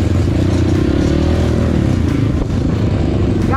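A trail motorcycle revs hard as the rider accelerates off-road, the engine note loud, close and continuous with a rising drone throughout.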